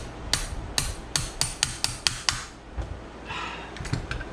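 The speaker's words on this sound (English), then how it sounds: "Big ass mofo hammer. Actually, no, that's just a little hammer." Sharp hammer blows on metal from a Jaguar independent rear suspension rebuild, about seven close, loud strikes in a steady rhythm, then a few scattered lighter knocks and scraping.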